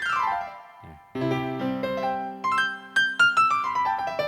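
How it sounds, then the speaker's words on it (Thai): A Casio LK-55 electronic keyboard's piano voice plays, a held chord followed by a quick run of bright, descending tones. "นี้คือเสียงเปียโนเสียงที่1 0 0 0นะครับ"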